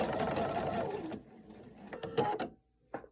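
A sewing machine stitches a button onto fabric, running in a fast steady burst for about a second before slowing into a few separate clunks and clicks, then falling silent, heard close and loud.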